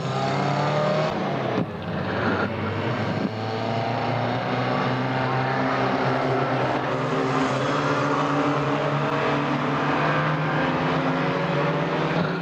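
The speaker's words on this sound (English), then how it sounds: "as the cars kick off on race 1 over here on our 42 race card, Heat 1 for the production saloon A's as they settle down into the damp conditions" Production saloon race cars start a heat on a damp track at a motor racing event, their engines roaring loud and continuous, revving and droning together for the whole stretch.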